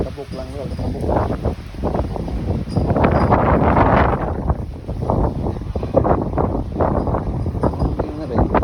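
Strong wind gusting in Cobar, a steady loud roar with buffeting against the microphone throughout, and people talking underneath it.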